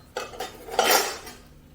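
A metal turner clinks and scrapes against a hot pan as an aloo paratha is flipped: a few sharp clatters, then a louder scraping burst near the end, close and alone with no talk.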